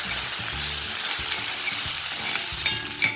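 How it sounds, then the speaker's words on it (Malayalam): Dals, cumin seeds and curry leaves fry in oil while being stirred, a close continuous sizzle with rhythmic spoon scrapes against the pan and a few sharper pops near the end; no voices. "1/4 ടീസ്പൂൺ ചെറിയ ജീരകം, അതായത് ക്യുമിൻ സീഡ്, കുറച്ച് കരിവേപ്പിലയും കൂടി ഇട്ട് കൊടുക്കാം. ഇതൊന്ന് ഇളക്കി കൊടുക്കാം."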